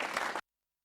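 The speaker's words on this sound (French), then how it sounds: "d'applaudir bien fort" A television studio audience applauds during an emotional tribute on set, a brief burst of dense clapping that cuts off abruptly after under half a second.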